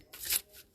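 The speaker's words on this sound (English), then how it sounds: "I'll give them a little bit of shuffle." A brief, soft riffle of an oracle card deck being shuffled, close by and quiet.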